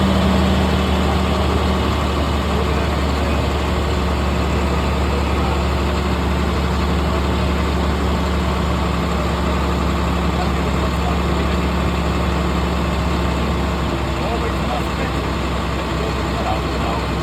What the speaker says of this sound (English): step on the gas, get my RPMs up to 15